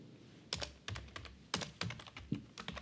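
Typing a SQL query on a computer keyboard, a sparse series of distinct key clicks and taps at uneven intervals, close but quiet, with no speech.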